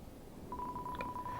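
A telephone tone sounds from a phone left dangling off its handle in the video game Deltarune, a steady electronic beeping tone that starts partway in and holds with slight pulses over a low background hum.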